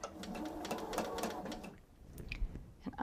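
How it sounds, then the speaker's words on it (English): A sewing machine stitches across a scrap of spare fabric, a fast rhythmic mechanical chatter up close that stops partway, leaving quieter clicks and handling sounds. "take a piece of spare fabric and start sewing on it"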